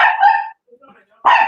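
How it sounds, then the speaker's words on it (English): A dog barks close by, with two sharp barks separated by a brief quiet gap that holds faint whimpering. "I do apologize for my dog there"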